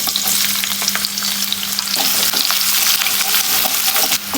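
Sliced onion frying in hot oil for a katla fish curry, a loud, dense, continuous sizzle with occasional stirring scrapes, close and steady, with no voices.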